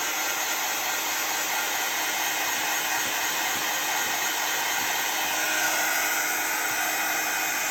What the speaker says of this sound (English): I need to heat my heat gun up because it hasn't been on